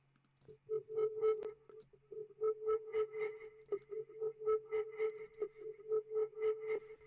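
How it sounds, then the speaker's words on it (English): A buzzy, distorted synth tone holds a steady pitch while pulsing in a quick rhythm, with gritty harmonics stacking on top; it plays alone with no voices. "let's have a play with a little bit of just basic distortion"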